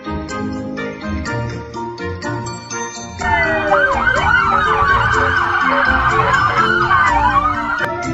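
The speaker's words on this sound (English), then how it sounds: "Police car." A police car siren wails loudly in rapid up-and-down sweeps that start abruptly a few seconds in, preceded by quieter tones and chimes.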